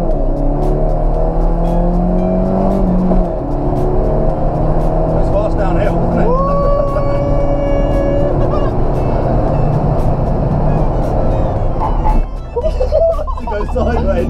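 A Citroen Saxo car drives fast downhill, its engine droning loudly and shifting pitch inside the cabin while people talk over the noise.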